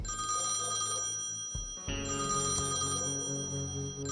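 An out-of-order telephone ringing in the adventure game Thimbleweed Park, a loud, continuous metallic bell ring with a brief break in the middle before it carries on, heard alone.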